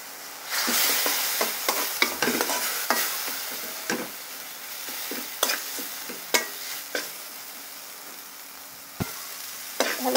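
Mola fish curry with radish greens being stirred and sautéed in a pan, a steady sizzle of frying under repeated sharp scrapes and knocks of the spoon against the pan, close up with no talk.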